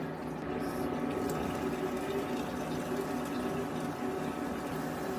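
Potato balls deep-frying in plenty of hot oil, a steady, even sizzle and bubbling that holds at a moderate level throughout with no pauses.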